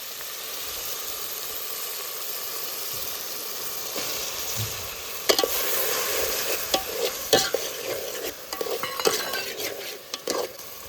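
Tomatoes and chilies tipped into a hot frying pan for village-style Maggi, a soft sizzle at first, then louder frying with repeated sharp scrapes and clicks of a spoon stirring, no voices.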